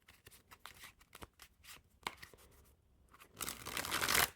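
Stiff rainbow holographic playing cards are shuffled by hand: a run of quick crisp snaps and flicks, then a denser riffling burst that rises to a louder crackling finish, close and alone.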